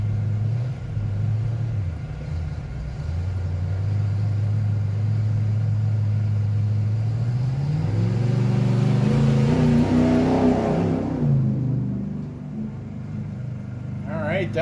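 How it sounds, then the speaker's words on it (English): Classic Ford pickup with a small block 406 engine revving at an off-road race start in Broadview, Montana, a loud steady rumble rising in pitch toward the end, with voices talking over it. "Cool old classic looking Ford pickup. Sounds pretty good."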